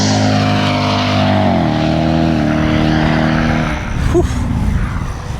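A 2005 Cadillac XLR convertible accelerates hard with a loud, rising engine drone that climbs steadily in pitch, drops briefly at a gear change, then surges on as wind roars. Near the end someone lets out a short exclamation.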